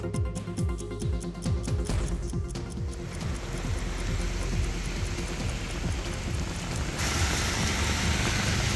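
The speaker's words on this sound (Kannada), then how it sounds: "ನಗರದಲ್ಲಿ ಹಲವೆಡೆ ಭಾರೀ ಮಳೆಯಾಗಿದೆ" Heavy rain pours over Belagavi city in a steady, dense hiss that swells louder after a few seconds, with some low rumbling underneath; no voices.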